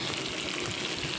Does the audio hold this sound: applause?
no